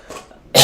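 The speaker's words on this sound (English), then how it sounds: "I'm just coughing." A single brief, close cough bursts out at the very end after a stretch of quiet room noise.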